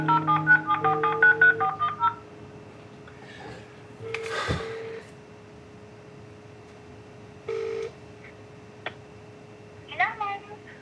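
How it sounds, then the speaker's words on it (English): A telephone being dialed to make a call, with a quick run of touch-tone keypad beeps at the start, then scattered clicks and short tones as the line connects, recorded close and clear. "now has to make a heartbreaking phone call."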